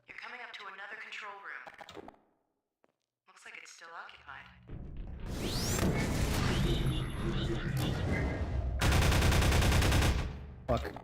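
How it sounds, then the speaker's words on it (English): Automated turrets fire continuously in the video game Half-Life 2, dense rapid bursts of loud gunfire following stretches of talking, with a pause in between. "All the turrets just infinitely shooting."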